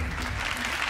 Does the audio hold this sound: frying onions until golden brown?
no